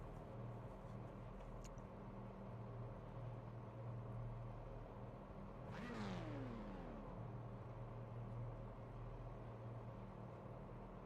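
Racing car engines idling and revving in a sim racing game on the Nürburgring Sprintstrecke, a steady drone under a single rising and falling rev near the middle.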